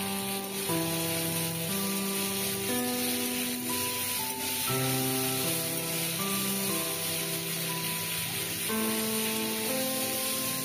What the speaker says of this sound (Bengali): আর একটু বেশ ভেজে নেব আলুটা, ভালো করে ভেজে নেব যাতে কাঁচা গন্ধটা না বেরোয়